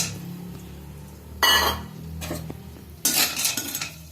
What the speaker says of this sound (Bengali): কড়াতে ঘি দিলাম, ঘি দিয়ে এই যে গঁদটা আছে, গঁদটা এটা ভেজে নেব